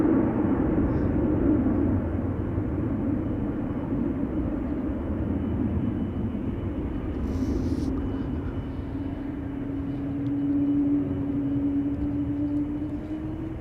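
American Airlines airliner taxiing toward the camera at Amsterdam Schiphol Airport, a steady low jet engine rumble and whine, gradually rising in pitch, heard alone.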